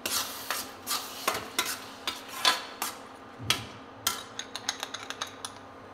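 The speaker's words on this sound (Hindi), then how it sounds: "हल्दी पाउडर, इसको हम करेंगे मिक्स" A spoon stirs turmeric powder into a baingan bharta mixture in a pan, giving a run of short scraping, clinking strokes at an irregular rhythm, close and fairly quiet, with no talking.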